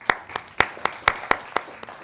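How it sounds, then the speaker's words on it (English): Applause at a community panel event in Cleveland: a handful of evenly spaced, crisp hand claps, about eight in two seconds, fairly faint and with no talking over them. "one round of applause, please"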